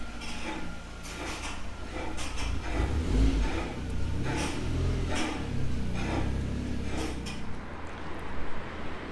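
A 1.8T Mk2 car fitted with a full 63mm exhaust revs through a quick pull, giving a deep, loud rumbling drone that rises and swells. Faint mechanical clunks sit over the steady exhaust roar.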